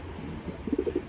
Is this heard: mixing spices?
no